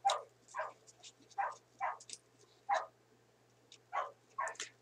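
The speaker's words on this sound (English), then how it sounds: "it's dog barking heaven here" A dog barks repeatedly in an irregular rhythm, sharp yapping barks at moderate distance in a quiet home setting, with no talking.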